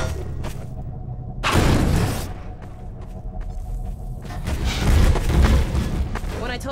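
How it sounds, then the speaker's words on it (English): Fireworks going off in a video game: a sharp bright burst followed by crackling, then a deeper booming rumble a few seconds later, heard amid low background game noise. "Fireworks."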